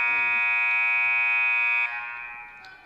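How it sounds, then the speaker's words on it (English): A loud, sustained electronic buzzer at a girls' high school basketball game blares steadily for about two seconds, then fades away, with a brief voice-like sound at the very start. "Well, that buzzer's serious."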